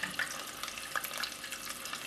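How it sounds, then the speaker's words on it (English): Water pours from a tap into a pot for cooking vermicelli noodles, a steady close splashing hiss with light bubbling throughout. "I'm gonna add some more water"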